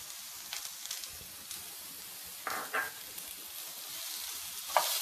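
Finely chopped onions and potatoes sautéing in a pan for an Afghani egg omelette, with a steady faint sizzle broken by several louder scrapes and stirs of a spoon against the pan.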